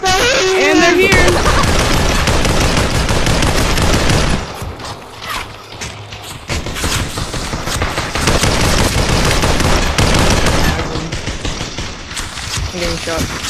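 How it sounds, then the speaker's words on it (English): Rapid automatic gunfire from a Population: One battle dominates, loud bursts of shots and fusillades with brief lulls, while players talk over the fighting. "I'm getting shot."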